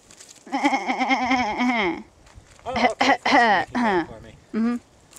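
A person on a hike imitates a billy goat, letting out a long wavering bleat followed by several shorter bleating calls, close and loud.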